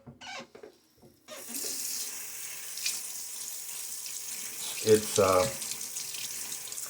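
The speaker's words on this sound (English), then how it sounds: "Let me rinse the container off." A container is rinsed under a running tap, a steady close rush of faucet water after a brief opening noise, with splashing bursts as the water hits the container near the end.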